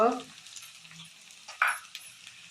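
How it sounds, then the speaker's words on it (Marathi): A hot pan sizzles as a crushed chilli paste is sautéed, with brief stirring, a clatter of a utensil and a sharp clink partway through; no talking. "आता आपण हा ठेचा टाकून देऊया आणि छान परतवून घेऊया"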